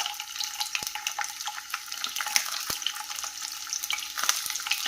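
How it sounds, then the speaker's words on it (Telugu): Sliced bitter gourds fry in oil in a pan over low flame, giving a steady close crackle and sizzle with scattered sharper pops throughout. "ఇలా కాకరకాయలు అన్నింటినీ కూడా ఆయిల్లో వేసుకోవాలి"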